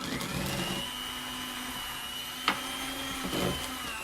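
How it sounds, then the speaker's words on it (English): An electric mixer whisks eggs into creamed butter and sugar for banana bread with a steady, close whirring drone, broken by a brief knock of the beaters against the bowl. "we're going to add our eggs in one at a time, whisk them up"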